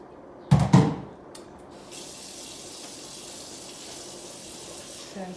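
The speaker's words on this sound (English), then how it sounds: "So I'm just going to wash my hands again" Hands are washed under a running kitchen tap, a steady hiss of water pouring into a sink that follows a couple of brief knocks and continues evenly to the end.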